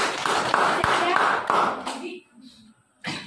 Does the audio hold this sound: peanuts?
no